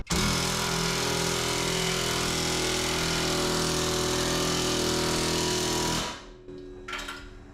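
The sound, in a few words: tightening shackle bolts on 1987 Dodge D100 rear suspension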